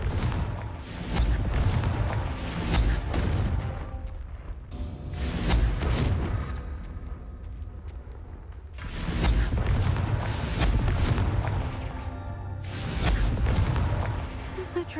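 Repeated booming fire-spell blasts from the Confringo curse in Hogwarts Legacy roar in several heavy, rumbling bursts a few seconds apart, loud and full, with faint voices in between.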